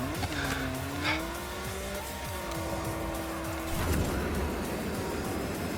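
Toy race cars in the video game Hot Wheels Unleashed 2 Turbocharged whine along with a rising and falling engine tone, then break into tire squeal and skidding near the end, loud and continuous with no talk.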